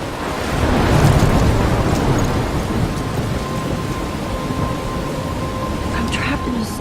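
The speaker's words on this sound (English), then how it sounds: "I'm trapped in a storm?" Thunderstorm in the video game Life Is Strange: steady heavy rain hiss with low rolling thunder swelling early on, loud and continuous, with faint scattered higher sounds near the end.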